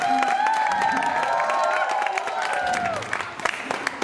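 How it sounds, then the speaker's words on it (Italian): A crowd at a magic show in the Broletto of Como applauds and cheers to welcome a volunteer assistant, with a whistle and voices rising over the clapping before it thins out near the end. "Accogliamola allora con un grosso applauso anche lei."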